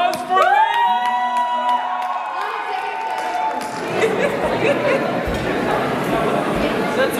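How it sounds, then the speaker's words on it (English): Festival crowd at a Diwali celebration cheering with high whoops and shouts at first, then swelling into loud, sustained applause and chatter from many people. "Round of applause for Layla!"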